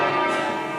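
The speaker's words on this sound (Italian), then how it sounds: "Adesso dovete parlare forte perché ci sono le campane che tornano." Church bells ringing in Italy, a dense, sustained wash of bell tones, loud and close, in a very short burst.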